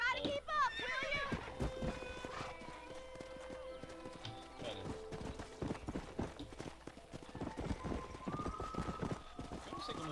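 In Red Dead Redemption, a horse's hooves clip-clop in a fast galloping rhythm, opening with a whinny, while voices and game music sound over the hoofbeats.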